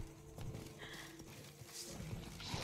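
Rhythmic hoof clip-clop of a horse at a steady walk in The Witcher 3: Wild Hunt, Blood and Wine, fairly quiet and continuous, with faint background game ambience.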